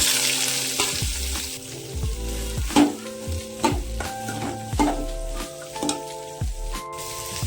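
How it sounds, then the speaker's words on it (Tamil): Onions and fennel seeds frying in a pan for a green gram gravy, a steady sizzle with recurring stirring scrapes and clinks at a close distance, no talking. "சோம்பு பொறிஞ்சிருச்சு இப்போ நம்ம வெங்காயம் சேர்த்துக்கலாம்"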